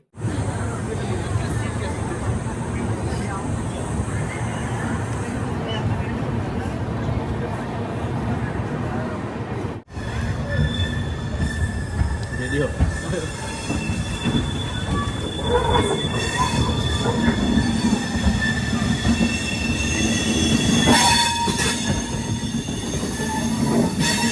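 The 13433 Amrit Bharat Express train rumbles loudly beside a platform, its wheels squealing and screeching against the rails over a constant heavy drone.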